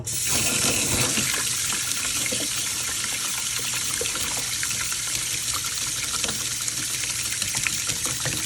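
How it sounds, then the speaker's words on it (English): Cold water runs steadily from a tap into a basin for hand washing delicates, a continuous bright close splashing and gushing rush with no talk. "I'm gonna put that in and then just add some cold water."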